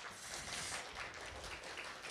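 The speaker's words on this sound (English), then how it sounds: "Can we give him a round of applause?" An audience at a teen science cafe talk in a museum applauds, a soft, steady wash of clapping heard from a distance throughout.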